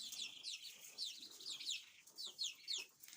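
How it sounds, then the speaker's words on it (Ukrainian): Faint, high chirping and peeping from a group of mixed-breed domestic chicks, continuous and busy, heard from a little distance with no talking. "наших домашніх курочок"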